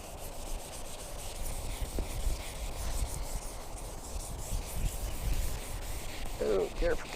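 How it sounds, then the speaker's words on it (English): Wet or dry 1000 grit sandpaper rubs back and forth across car clearcoat in a continuous rasping swish, close and fairly quiet, with a brief soft knock near the end. "be careful not to sand stuff I don't want sanded"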